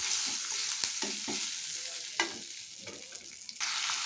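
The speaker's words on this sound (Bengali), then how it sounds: "একটু ভালো করে একটু নেড়ে চেড়ে নেবো এভাবে" Chopped curry leaves and a pinch of turmeric stirred in a hot frying pan, a steady bright sizzle running throughout under irregular soft scrapes and taps of the spatula, close and moderately quiet, with no talking.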